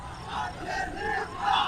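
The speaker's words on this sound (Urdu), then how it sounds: "نعرے لگائیں گے بعد میں" A large crowd at a political speech chants slogans in unison, a sustained distant roar of many voices rising and falling over a few seconds.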